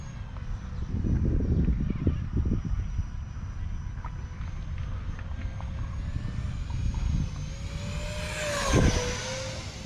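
A light plane flies overhead in near-calm wind with a steady engine drone, swelling to a louder roar near the end, with some clattering noise earlier on.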